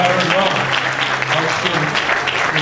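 Audience at an award ceremony applauding continuously, a dense roomful of clapping hands under a voice announcing over a microphone.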